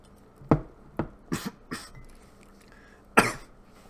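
Several short, sharp coughs close by, a quick run of four or five followed by one more forceful cough after a pause.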